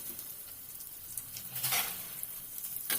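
Potato pieces sizzle in hot oil with a soft, steady hiss, broken by brief louder crackles and stirring, heard close and alone.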